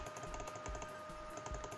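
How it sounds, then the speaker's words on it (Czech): Rapid computer keyboard and mouse clicking during an online game, a quick irregular run of light taps and clicks, close and fairly faint, with no talking. "ve skutečnosti slyšíte to klikání"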